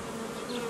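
Honeybees hum at a hobby beekeeper's hive in spring, a steady, close, continuous buzzing drone with no voices over it.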